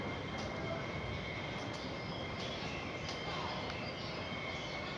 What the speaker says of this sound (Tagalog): So waiting tayo ng train dito.